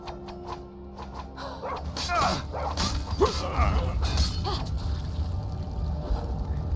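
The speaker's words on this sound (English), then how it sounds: "Send in the dogs, boys." Dogs barking in Skyrim, several sharp barks and yips in a quick cluster amid creaking mechanical noise and game ambience, fairly loud and close.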